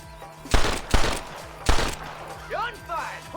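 Gunfire in the Western shootout game Red Dead Redemption, three loud close gunshot bursts in quick succession, followed by lighter ricochet-like whines and echoes under faint background voices.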